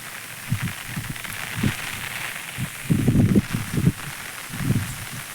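Strong gusts from Cyclone Fengal blow across crop fields, with a steady broadband rush and repeated low buffeting rumbles that swell and fade. No one speaks.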